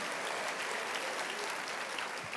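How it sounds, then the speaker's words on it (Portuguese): A church congregation claps in a brief, dense burst of applause, even and continuous for a couple of seconds with no voices standing out. "Aleluias, aplauda ao Senhor Jesus."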